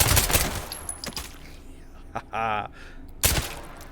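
Gunfire in the VR shooting game H3VR, with a few sharp shots early on, a short burst around the middle and another loud shot near the end, set against faint background noise.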